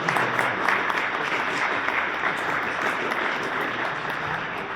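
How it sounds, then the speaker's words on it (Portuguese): Steady, dense applause from a lecture audience, loud and continuous throughout with no clear gaps, a broad wash of many hands clapping at once in a hall. "devem uma calorosa salva de palmas pelo voto extraordinário que"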